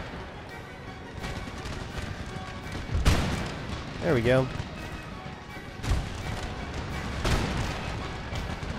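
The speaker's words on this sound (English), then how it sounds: "Cannons, keep that canister shot going out." Cannons fire canister shot in an Empire: Total War battle, sounding as several sharp booms spaced across the scene amid battlefield noise, with someone talking over it.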